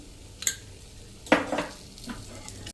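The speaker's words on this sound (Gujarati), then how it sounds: "આપણે કન્ટિન્યુ ચલાવતા જાશું અને લોટને શેકી લેશું સ્લો ટુ મીડિયમ ફ્લેમ ઉપર" Spoon scraping and stirring flour roasting in ghee in a pan over slow to medium flame, with a few distinct scrapes and clinks over a faint sizzle, close and quiet.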